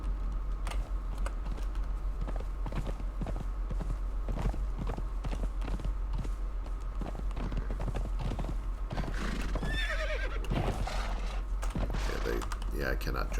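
A horse in the video game Conan Exiles trotting with steady clip-clopping hooves, then a whinnying neigh near the end, under a constant game hum with keyboard clicks audible.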